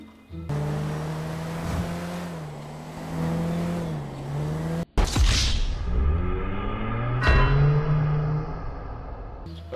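A car engine hums steadily with a tonal drone, then a sharp cut leads into a louder revving surge with rising pitch, close and continuous.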